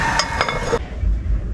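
A metal lid settles back onto a cooking pot outdoors while duck is being cooked, giving a few light clinks and a dull clatter over steady background noise.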